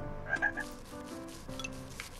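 Video game frog croaking in a cat adventure game, several short bright croaks clustered early over a steady game music bed, then quieter ambient tones.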